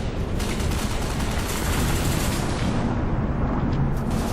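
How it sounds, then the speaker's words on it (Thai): Dense, continuous gunfire from the Ghost Recon video game, a loud barrage of overlapping shots and blasts that roars steadily throughout without pause. "ยิงใครกันวะ"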